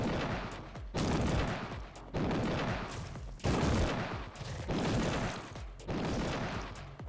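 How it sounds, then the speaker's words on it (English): Repeated heavy railgun shots in the factory-building game Factorio, six loud, booming bursts in a steady rhythm, each sustained for about a second with brief gaps between. "It only takes like 100 railgun shots."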